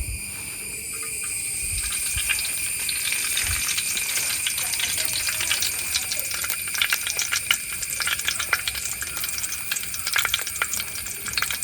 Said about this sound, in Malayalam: എണ്ണ ചൂടായതിനു ശേഷം കുറച്ച് കരിവേപ്പിനെല്ലാം നമുക്ക് ഇട്ടോ ആദ്യം തന്നെ